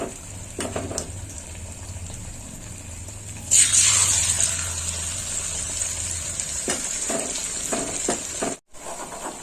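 Shiuli leaf fritters fry in oil in a pan, a soft steady sizzle with a sudden louder hiss midway, followed by a few scraping and tapping sounds of a utensil, close by.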